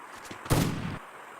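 A single sharp gunshot from a shooting video game bursts out loud and alone, with a short decaying boom lasting about half a second.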